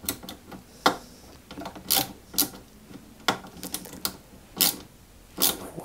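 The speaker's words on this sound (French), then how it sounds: "Voilà, et serrer la deuxième vis." A small screw is tightened on a 1/8 scale Citroën 2CV AZLP model, giving a run of faint, crisp clicks and ticks at irregular intervals in a quiet room.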